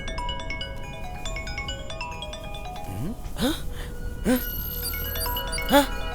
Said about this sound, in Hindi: मैसेज की घंटी, आ गया नंबर।